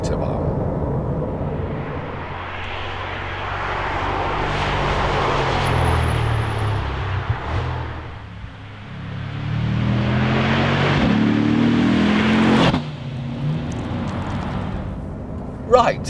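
A new Corvette Stingray cruises on the German Autobahn, its engine and road noise a steady loud rumble from inside the cabin, easing briefly midway before building again, with someone talking over it.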